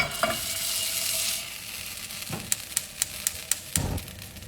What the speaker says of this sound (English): I'm just going to simmer that on the back burner.